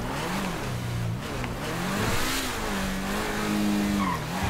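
A blue Lamborghini Veneno in GTA 5 screams at high revs as it speeds along, engine note rising and dipping with gear changes while tires squeal and skid, loud and close with no talking.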